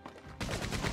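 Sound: gunfire from Red Dead Redemption 2 video game

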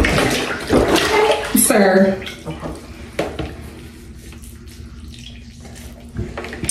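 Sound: water splashing while bathing a baby

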